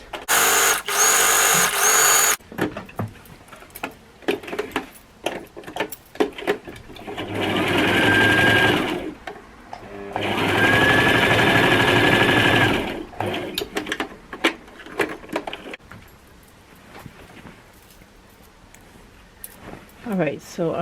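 A sewing machine runs in two long, steady stitching passes along the side seams of a dress refashioned from a skirt, with short whirring bursts and handling clatter between and around them.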